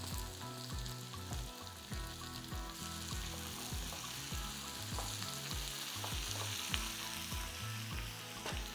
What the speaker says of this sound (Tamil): எல்லாம் சேர்த்து ஒன்றா வதக்கிக்கலாம்